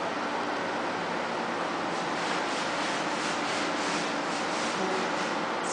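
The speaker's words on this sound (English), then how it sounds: "I'm also just going to rub the floor a little bit with my hand." A hand rubs across a concrete floor coated with stain residue, giving a steady, close, continuous broadband scraping hiss with gentle rhythmic swells and no talking.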